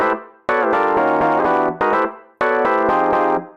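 A jazzy MIDI chord part plays from Ableton, loud synthesized chords struck in short uneven bursts with decaying tails and brief gaps between hits.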